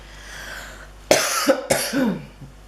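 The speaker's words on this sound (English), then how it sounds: "I still have that little bit of cough." Two sharp coughs in quick succession, close and fairly loud, with a rough throaty tail after the second one.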